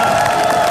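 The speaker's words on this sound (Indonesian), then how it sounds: "Tepuk tangan untuk semuanya yang ada di sini." Studio audience on an Indonesian TV talk show erupts in a brief, loud burst of applause mixed with cheering and whoops, a dense crowd wash with no gaps.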